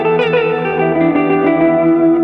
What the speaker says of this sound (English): I get twice as much reverb on my direct sound